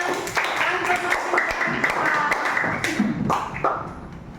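Classroom applause for a student, a burst of scattered hand claps and taps from a group that fades unevenly over several seconds, with voices mixed in.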